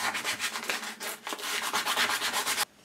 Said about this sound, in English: and then sand it